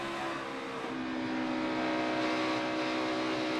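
Chase Elliott's NASCAR Cup Series race car crosses the Pocono tunnel turn, its engine holding a steady, loud droning whine as the throttle is feathered slightly, with no voices.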